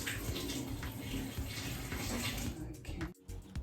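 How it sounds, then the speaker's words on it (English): Tap water runs steadily at close range during face washing at a bathroom sink, a continuous broadband rush that briefly cuts out near the end before resuming. "So I'm just gonna wash my face"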